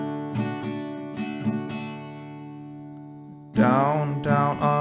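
An acoustic guitar is strummed in a down-down-up-up-down-up pattern for a song, giving a few close, clear chord strums that ring out, a pause, then two more strums.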